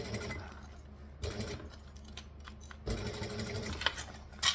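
A sewing machine stitching a bag seam, then reversing for a back stitch, heard as close, rapid mechanical whirring runs broken by short pauses, with a small clunk near the end.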